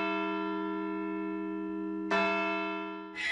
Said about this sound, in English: And for the church bells here,